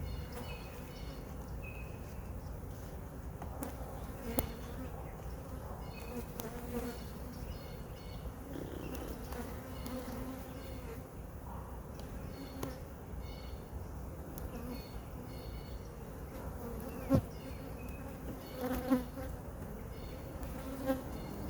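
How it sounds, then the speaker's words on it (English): A steady, dense buzzing of many honeybees swarming close by, with occasional soft knocks and clicks over the continuous drone. "without a doubt, the calmest bees I've ever worked with"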